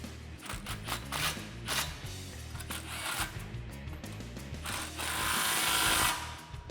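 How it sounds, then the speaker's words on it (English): Ratchet with a 15 mm socket tightening band clamps on a 2015–2017 Mustang GT Roush cat-back exhaust, giving quick bursts of metallic clicking near and clear, with a short pause partway. "grab your 15 socket and we're gonna tighten these guys down"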